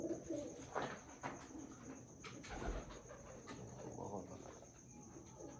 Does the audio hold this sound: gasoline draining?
no